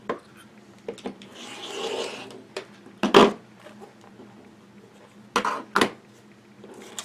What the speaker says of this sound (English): take our ruler and rotary cutter and cut one side, and I'm going to move over here and trim off this edge